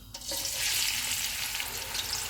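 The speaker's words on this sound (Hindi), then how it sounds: "इनको गोल्डन ब्राउन होने तक फ्राई करेंगे" Steady, close sizzling and crackling of onions frying in hot oil with spices, a continuous hiss with no voices.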